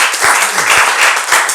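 Studio audience at a couples game show applauding, a dense steady wash of clapping held throughout at close range, with a faint voice briefly underneath.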